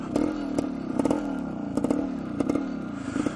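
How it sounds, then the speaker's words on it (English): A 1973 Suzuki TS250 Savage two-stroke motorcycle engine is revved up nearby in repeated rising bursts, crackling and rattling between each throttle blip. "We'll just rev it like a motocrosser."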